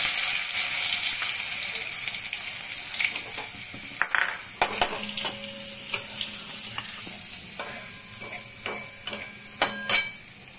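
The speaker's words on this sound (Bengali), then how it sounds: "জিরা ফোড়ন দিব, আর দেব রসুন থেতোটা দিচ্ছি।" Cumin seeds and crushed garlic frying in hot oil, a loud continuous sizzle with crackling, accompanied by repeated metal spatula scrapes and clinks against the pan as the sizzle gradually settles.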